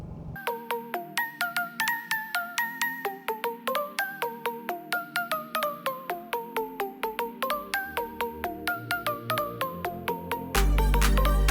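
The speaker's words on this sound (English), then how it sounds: "I'm going to call Tiff, enjoy some time on the phone with her" An outgoing phone call plays a repeating melodic ringtone, with rapid bursts of tones in a steady pattern that continues for about ten seconds before a brief louder chime at the end.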